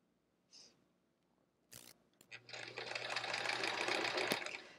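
Sewing machine stitching pieces of a Triangle Tango quilt, a couple of brief clicks and knocks before the motor starts and runs steadily at a fast hum, close and clear with no talk.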